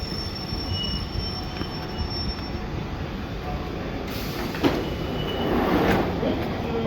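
A London Underground Central line train arrives at a platform in Stratford station, with a steady rumble of wheels on rails, a high whine, and rising squeal and rattle as it pulls in.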